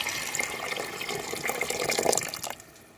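Tamarind juice poured into a pan splashes and gurgles for about two and a half seconds, close and fairly loud, then cuts off abruptly into quiet.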